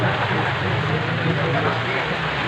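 Rain falls as a steady, dense hiss of constant loudness, with no other sound standing out.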